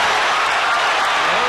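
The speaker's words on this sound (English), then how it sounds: "the crowd comes alive for the first time" Boxing arena crowd roaring at Evander Holyfield's double left hook against Fres Oquendo, a loud continuous wash of cheering and applause, with a commentator's voice over it.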